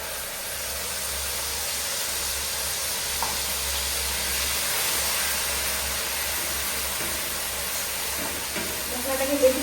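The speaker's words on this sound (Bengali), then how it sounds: "আমরা সর্ষের পোস্ত, আদা, কাঁচা লঙ্কা যেটা পেস্ট করেছি সেটা এখন দিয়ে দিচ্ছি।" A paste of mustard, poppy seed, ginger and green chili goes into hot oil seasoned with nigella seeds. It gives off a steady, soft, hissing sizzle that stays fairly quiet and even throughout.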